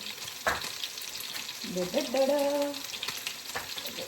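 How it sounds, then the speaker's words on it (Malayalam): Onions sauté in a pan for garlic chicken, a soft, steady frying sizzle with occasional stirring scrapes and clinks of a utensil against the pan, fairly quiet and close. "ഉള്ളി ഓൾമോസ്റ്റ് വഴണ്ടു."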